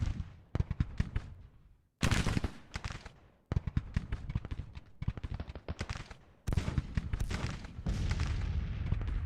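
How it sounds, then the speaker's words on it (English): Napoleon cannons of a Civil War artillery battery fire in Grand Tactician, a string of loud booming blasts and crackling volleys, each followed by a rolling echo, with dense gunfire filling the gaps. "The artillery under Rosser is getting into action now, so our Napoleons are firing at the enemy"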